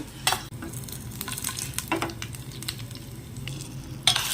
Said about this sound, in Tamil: தயிர் சாதத்துக்கு ஒரு சின்ன தாளிப்பு கொடுத்துடலாம்